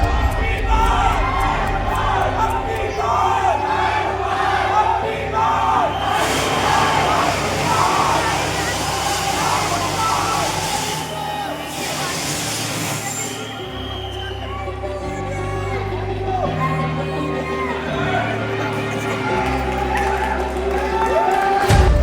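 A dense, loud crowd fills a cinema at a film premiere show at Shyam Talkies in Raipur, with steady babble, shouts and cheering over booming music throughout.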